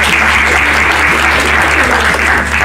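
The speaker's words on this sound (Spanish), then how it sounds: "Quiero un aplauso para él, por favor." Loud, dense applause from an audience at a Peruvian university event, continuous clapping from many hands at full strength throughout.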